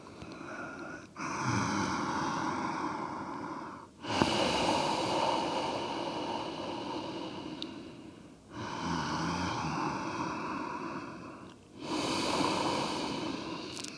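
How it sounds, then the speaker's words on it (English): Ujjayi breathing through the nose during a dynamic yoga flow, with the throat vibrating; long, steady, hissing breaths with clear pauses between them, close and alone. "breathing in and out of your nose, vibrating in the back of your throat."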